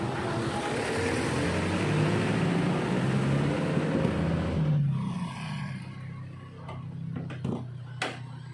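An Isuzu Panther's diesel engine runs with a loud, close, rumbling clatter that drops off abruptly partway through, leaving a quieter hum and a few clicks.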